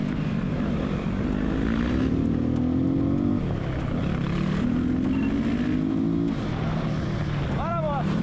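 A 700cc motorcycle ridden through a favela during a police chase, its engine droning steadily and loudly, rising and falling in pitch through gear changes, with shouting voices over it.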